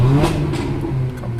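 A Mercedes-Benz AMG GLA 45 Edition 1 with a modified exhaust revs loudly and close by, its engine note rising and holding steady over a brief burst, with no talk over it.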